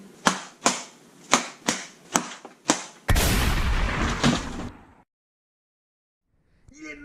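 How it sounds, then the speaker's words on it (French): An origami paper popper snaps with about eight sharp, evenly spaced pops, then a loud sustained rush of noise lasting a couple of seconds before silence and a faint sound at the end. "on a remarqué que le bruit ressemblait un petit peu à une balle de tennis frappée par une raquette."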